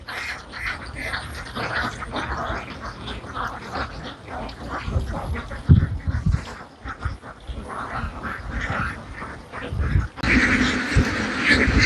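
A large flock of farm ducks grazing in an open field quacks continuously over noisy outdoor background, with a nearer burst of calls toward the end.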